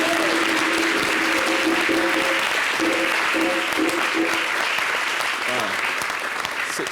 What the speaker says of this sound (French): Je voudrais que d'ici, on l'applaudisse bien fort pour ce qu'elle a fait.